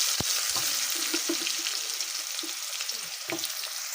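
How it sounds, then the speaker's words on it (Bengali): Potatoes frying in hot oil in a pan after fish has been fried, a steady close sizzle with occasional stirring clatter, no talk. "আলুগুলো দিয়ে দেবো তেলের মধ্যে।"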